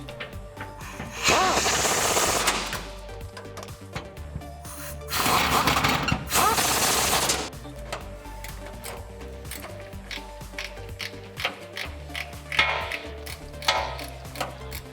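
Bolts fastening the bed of a 2007-2018 Chevrolet Silverado 1500 back down to its frame are tightened in two long, loud, close bursts of rattling tool noise, with quieter clicks and mechanical clatter in between.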